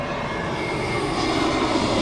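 A Pratt & Whitney engine on an Italia Airways Airbus A320neo landing at Rome Fiumicino gives a steady, loud broadband jet roar, continuous and unchanging over a couple of seconds with no voices.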